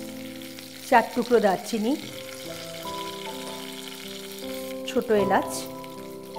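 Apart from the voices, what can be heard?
whole spices sizzling in hot oil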